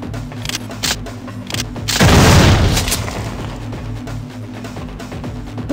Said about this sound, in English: Nice nuke.